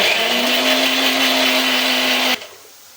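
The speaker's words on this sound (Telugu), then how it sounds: "1 కిలో చికెన్కి సరిపడగా ఒక 10 ఎల్లుల్లి రమ్మలో 1 ఇంచు అల్లం వేసి మెత్తగా మిక్సీ పట్టుకుందాం" A mixer grinder whirs loudly as it grinds about ten garlic cloves and an inch of ginger into a smooth paste for chicken curry. The steady motor whine holds for over two seconds, then cuts off abruptly.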